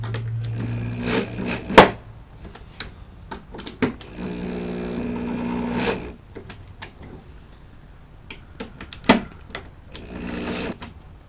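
Bolts being driven down on a custom-built Green Egg grill table: a rapid mechanical whir of a power driver in short bursts, with sharp clanks and knocks between runs, close and fairly loud.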